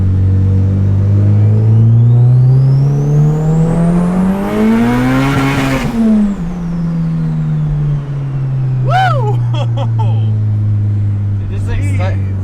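A 350hp turbocharged B16 Honda Civic hatch engine revs up loudly on the street, pitch climbing through a gear then easing off, with a faint whoosh and later brief voices.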